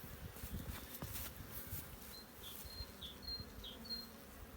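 Caucasian-Carniolan hybrid honeybees buzz at the hive in a steady, low drone, with individual bees whining past close by. The sound is fairly faint.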